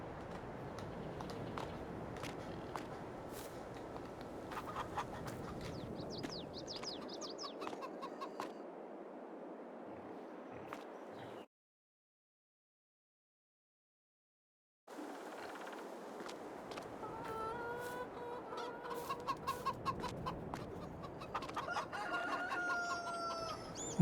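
Chickens and a rooster in Farming Simulator 22 cluck and crow close by in a farm setting, with a continuous busy stream of clucking broken by a few seconds of silence midway.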